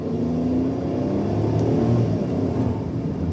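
A Suzuki DA17W minivan engine revs steadily at high speed, around 4,000 rpm, a sustained droning whir with a rising, strained tone throughout.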